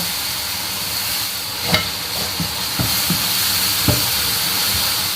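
A splash of red wine hits a hot pan of paprika and sizzles in a loud, continuous hiss, with a few soft scrapes and knocks of stirring mixed in.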